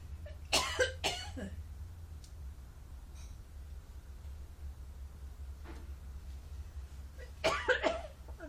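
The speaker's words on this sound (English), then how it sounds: "I don't know why I'm coughing." A person coughs a couple of times, then after a quiet stretch with low background hum, coughs again in a short burst.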